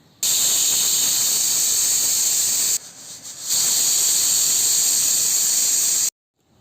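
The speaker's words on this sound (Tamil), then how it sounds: "ஸ்டவ்வில் வச்சாச்சு. ஒரு 2 விசில் கூட வரட்டும்." A pressure cooker on a stove, cooking drumstick juice ingredients with turmeric, lets off a loud steady hiss of steam with a high whistle. The blast breaks off briefly in the middle, resumes, then cuts off abruptly.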